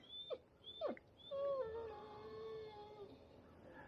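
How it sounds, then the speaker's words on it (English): A dog whimpers in a quiet rural setting in the Ozarks, giving a couple of short sharp yelps and then a long, thin, wavering whine, faint and close, with no talk. "My dog needs some attention."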